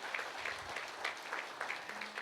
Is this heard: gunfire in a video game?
no